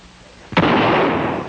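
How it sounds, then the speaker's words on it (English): A single loud shotgun blast goes off suddenly and close, then rings out in a long, rumbling decay across an open Old West landscape. "Shotgun fire could mean a stagecoach in trouble"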